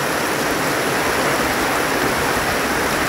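Flowing water running naturally over ground to water plants, a steady close rushing wash with no pauses.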